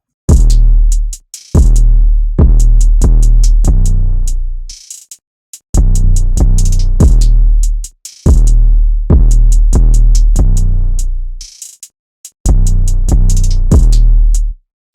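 A bouncy electronic beat plays alone, its crisp hi-hat hits falling in quick rhythmic bursts between short pauses, with deep thumps underneath.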